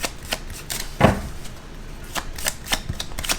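Tarot cards are shuffled by hand, giving a quick run of crisp clicks and flutters with one louder slap near the start, close by and with no voices.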